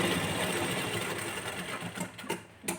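Sewing machine stitching the hem of a blouse strip, a steady close mechanical whir running almost the whole time before slowing and stopping near the end, with no talking.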